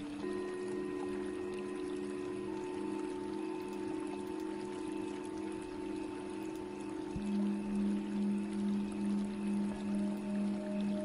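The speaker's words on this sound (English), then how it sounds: "Go back to the waterfall." Rainforest waterfall audio for meditation: a soft, steady flow of falling water runs unbroken beneath sustained tonal drones that shift partway through, calm and moderately quiet with no talking.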